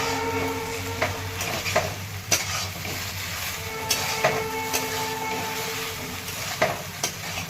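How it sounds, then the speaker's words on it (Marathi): Dry manchurian balls tossed and stirred in a hot pan, a steady frying sizzle broken by repeated scraping and clanking of a spatula against the pan. "ते मंचुरियन टाकून घेत आहे आणि मिक्स करून घेते"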